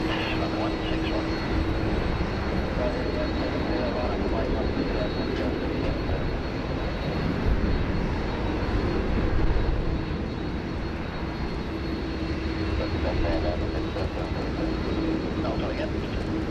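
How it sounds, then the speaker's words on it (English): A Boeing 747 airliner at Sydney Airport during heavy rain, its engines roaring steadily and loudly throughout, mixed with rainfall and a continuous broadband wash, with faint radio voices underneath. "Yeah, that's 747."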